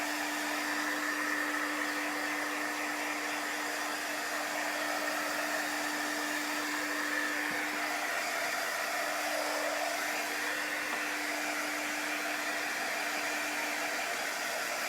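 Chalk paint on a stenciled craft sign is dried with a hair dryer, its loud, even blowing roar and steady motor hum continuing close and uninterrupted throughout, with no one speaking.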